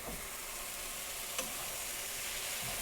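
Onions caramelizing in a pan give off a steady, close sizzle and frying crackle, with one brief tick near the middle and no talking.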